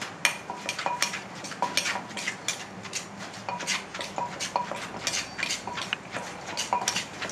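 Som tam papaya salad, made with crisp home-grown green papaya, pounded in a mortar with a steady run of sharp rhythmic knocks and clatters, close and fairly loud, with no talk.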